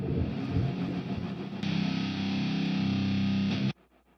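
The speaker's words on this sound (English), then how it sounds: "We will add a little bit of frequency echo." A doubled music track run through a frequency echo effect gives a loud, dense, distorted tone that thickens and brightens abruptly partway through, holds steady, then cuts off sharply near the end, with no talking.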